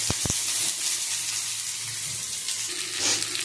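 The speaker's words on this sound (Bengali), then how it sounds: "পেঁয়াজটা একটু ভেজে নেবো।" Onions and green chillies fry in oil for dal, a soft continuous sizzle with a few sharp clinks at the start and a brief swell near the end.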